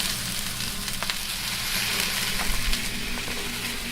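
Italian sausages sizzle and spit steadily in a hot pan, a dense, close frying hiss with small crackling pops that continues without pause.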